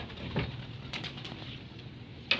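Racing pigeons in a loft cooing softly, with a couple of low coos and light fluttering or shuffling, faint and close in a quiet space.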